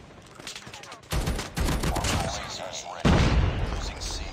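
Sentry gun firing in a multiplayer shooter video game, rapid loud bursts of automatic gunfire in several waves with chaotic battle noise, alongside players talking.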